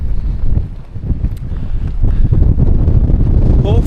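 Strong gusting wind buffets a microphone on an exposed Lake District summit, loud rumbling roar that rises and falls, heavier in the second half, with no voices.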